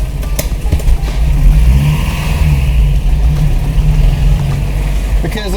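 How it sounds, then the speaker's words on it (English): A broken VW Polo's engine revving hard with a misfire, the loud, uneven drone rising and surging steadily for several seconds, close up, with no talking over it. "Because of the misfire, you have to rev up to get it going"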